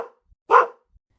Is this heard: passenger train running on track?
no